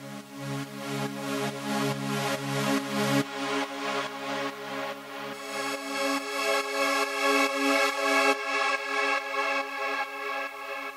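Reversed, frozen synth chords from Spire made into sweeps, rising and pulsing swells repeating in a steady rhythm, with the chord shifting a few times, heard alone without any voice.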